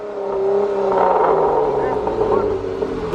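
Dodge Challenger V6 SXT 3.6L fitted with a Borla ATAK exhaust revs steadily nearby, a droning engine tone holding and swelling slightly, with no talking over it.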